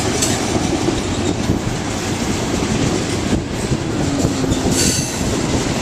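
A long freight train rolls past on the rails close by, a loud, steady rumble with clattering wagons and brief squeals from the wheels.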